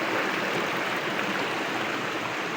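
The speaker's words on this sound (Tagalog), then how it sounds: "Tingnan mo yung ilog dito guys" A river flowing on a mountain adventure trek, a steady broad rushing wash of water with no pauses, filling the whole scene at even loudness.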